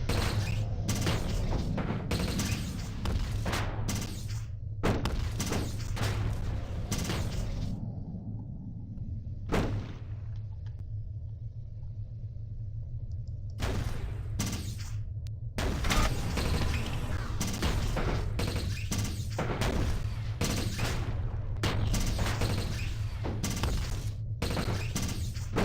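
Cannons fire in the StellarTactics video game, dense volleys of booming shots and crashing impacts over a steady low hum, pausing briefly midway before resuming rapid fire.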